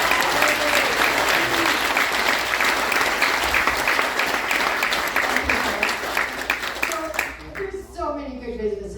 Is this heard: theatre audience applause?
yes